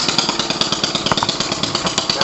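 A redneck lawn mower engine starting up and running with a fast, steady, rough pulsing chatter, loud and close, with no talk over it.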